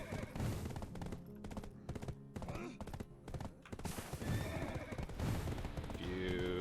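A horse whinnies clearly in the online fantasy game Black Desert Online, mixed with other game effects, including rapid bursts like gunfire.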